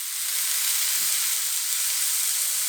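A thin beef burger patty sizzles loudly and steadily in a hot pan after being pressed flat with a foil-wrapped potato masher, a continuous close hiss with no voices.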